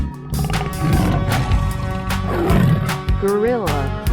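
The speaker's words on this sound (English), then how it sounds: "Tiger." A tiger roars in a 3D animal video game, loud and close, over busy game music and effects, with a rising and falling growl near the end.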